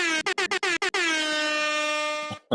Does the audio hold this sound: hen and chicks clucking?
no